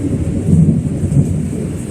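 Thunder from an approaching storm rumbles in the distance, a deep steady roll that echoes continuously with a faint hiss of rain or wind beneath it.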